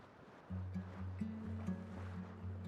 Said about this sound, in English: Sound of the ocean?